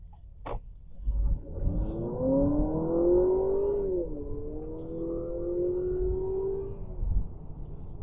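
2025 Honda Accord Sport Hybrid accelerating on a road, a smooth rising motor whine that climbs in pitch, dips, then holds steady before fading, heard from inside the car over low road rumble.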